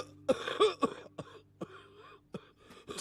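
A series of rough, close coughs and throat clearings from one person, in uneven bursts across a few seconds.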